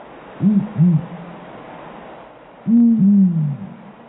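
An owl pair duetting, male and female trading notes so tightly they sound like one bird: two quick, close hoots, a pause, then two louder, longer hoots, clear and alone.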